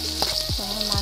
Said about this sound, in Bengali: মাছটা আমি লাল লাল করে ভেজে নেব।